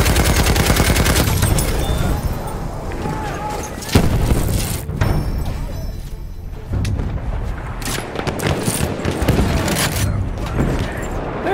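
Machine gun fire in the video game Battlefield 1 rattles in dense rapid bursts through a loud, chaotic battle, with booming impacts and shouted voices layered in.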